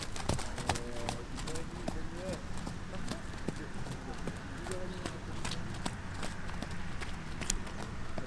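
Hoofbeats of a mare ridden in a show-jumping lesson, a steady clip-clop of cantering hooves on an arena surface, fairly close, running throughout under a coach's voice and low background noise.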